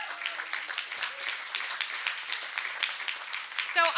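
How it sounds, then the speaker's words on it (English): An audience claps through a steady, dense round of applause at the ribbon cutting for the Richmond–San Rafael Bridge bike path, moderately close, with a brief sound rising near the end. "Round of applause."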